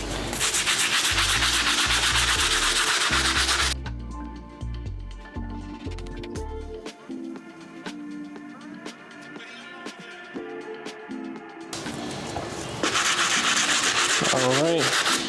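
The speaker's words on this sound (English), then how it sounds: "I'm just gonna give the midsole a light clean with the stiff bristle brush now." A stiff bristle brush scrubs the midsole of a 2014 Air Jordan 11 Legend Blue sneaker in harsh, rapid bursts at the start and end. Softer background music fills the pause between them.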